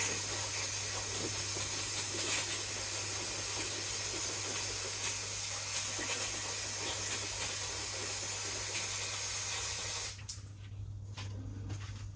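A steady aerosol brake cleaner spray hisses for about ten seconds, close and continuous, on a Toyota Auris hood latch, then cuts off abruptly, leaving faint background noise.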